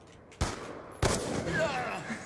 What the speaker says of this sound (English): Nice shot, Chris.